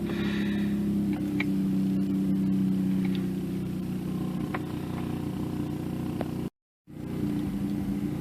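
A steady low rotary engine rumble from a Mazda RX-8 idling in a garage goes on and on with a constant hum, briefly cutting out near the end before resuming.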